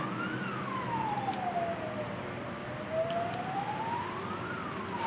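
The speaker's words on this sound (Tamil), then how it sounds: "ஆம்புலன்ஸ் சவுண்ட் கேட்குதா?" An ambulance siren wails steadily, its pitch sweeping slowly down and back up, heard from a moderate distance over a constant background hum.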